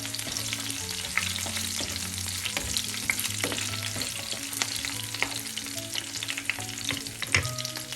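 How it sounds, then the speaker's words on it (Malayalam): Tamarind sautéing in a pan for a curry leaf chutney, a continuous close frying sizzle with frequent crackles and the scrape of stirring throughout, no voices. "നമുക്കതിലേക്ക് ഒരു ചെറിയ നെല്ലിക്ക വലിപ്പത്തിലുള്ള പുളിയും കൂടെ ചേർക്കാം. അതുകൊണ്ട് വഴറ്റാം."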